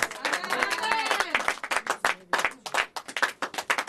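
A church congregation claps together in praise, steady rhythmic applause that starts dense and settles into a loose, repeated beat, fairly close and loud.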